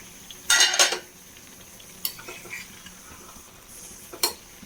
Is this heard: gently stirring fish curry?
yes